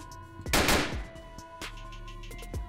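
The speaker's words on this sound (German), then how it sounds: "da schießen welche" A loud burst of gunfire in a police roleplay video game session, followed by a quieter second shot, with background game ambience.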